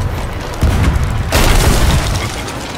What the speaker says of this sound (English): they're really hitting my cannon